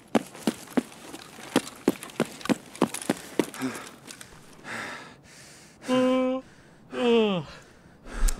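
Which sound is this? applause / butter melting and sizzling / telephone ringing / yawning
yawning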